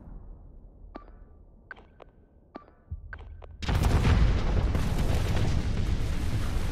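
Nuclear explosions in the space game Starsector: a few short sonar-like pings and clicks, then a sudden massive roaring blast that holds as a loud, dense, sustained rumble.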